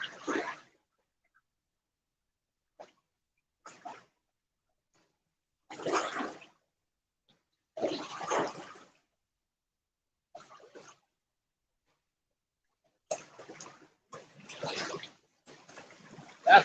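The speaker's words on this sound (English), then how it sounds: "Sound like the ocean, these waves." Waves splash against the shore at night during a fishing trip, arriving in short, faint bursts separated by stretches of near silence, some of them clustered closer together toward the end.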